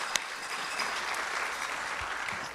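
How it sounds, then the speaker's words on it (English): An audience at a Trans Pride awards and keynote event in Washington DC applauds, a steady, even patter of many hands heard from a moderate distance. "So let's give yourself a round of applause."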